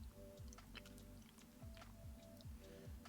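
Soft chewing into a microphone: repeated moist bites and mouth clicks in an irregular rhythm, close and fairly quiet, under a faint background hum.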